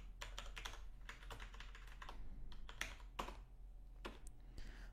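Keys clatter steadily as PHP code is typed on a computer keyboard, making quick irregular bursts of taps with short pauses between them. The sound is faint and close, and no one speaks.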